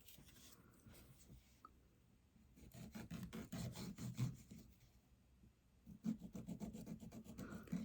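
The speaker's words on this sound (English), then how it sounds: "I always start with the corners when I file." A nail file rubs the corners of gel nail strips in quiet, rhythmic back-and-forth rasping strokes that come in two short bursts with a pause between them.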